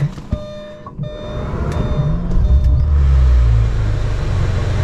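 An air-cooled Porsche drives off: after a few faint clicks, a low engine rumble swells and holds steady and fairly loud, heard from inside the car, with no talking.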